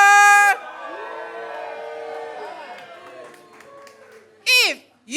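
A studio audience at a televised debate show cheers and whoops in support of one proposal, a mass of raised voices after a loud opening shout, with another sharp burst of cheering near the end.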